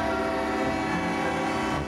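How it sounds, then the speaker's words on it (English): Santa Fe replica Christmas train leading a Toys for Tots motorcycle parade, heard as a loud, steady tonal drone with sustained horn-like harmonics filling the whole moment up close. "led by a train, the Santa Fe replica"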